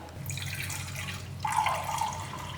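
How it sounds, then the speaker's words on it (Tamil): Water poured into a pot to melt jaggery, a steady close stream of liquid that grows fuller and louder partway through as the pot fills. "பாருங்க இந்த அளவுக்கு தண்ணி ஊற்றிக்கலாம்"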